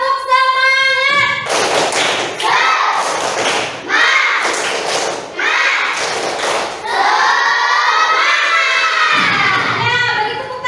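A classroom of Indonesian schoolchildren performs a rhythmic spirit clap, a series of loud, patterned thumps and claps in bursts, mixed with children's shouting and chanting voices close by.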